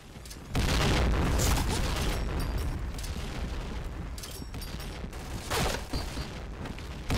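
A bomb goes off in a video game, a loud booming blast at the start followed by a long rumbling roar that fades slowly, with a second burst near the end.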